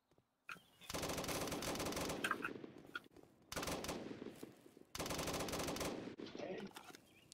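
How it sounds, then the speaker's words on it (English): Automatic weapons lay down covering fire in a video game, with three long, loud bursts of rapid gunfire separated by short gaps. "I'm going to show a video of me laying covering fire"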